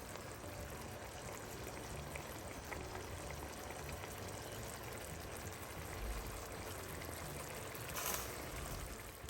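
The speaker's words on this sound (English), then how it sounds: "we're going to leave it, what I said, for 2 minutes to do a little bubble" Chilli garlic prawn sauce simmers in a pan, giving a faint, steady hiss and gentle crackle of small bubbles, with no voices over it.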